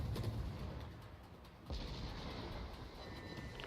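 Heavy naval gunfire from the Kurfürst battleship in a warship video game, a deep boom rolling out over steady ocean and engine ambience, with a second sharp report midway.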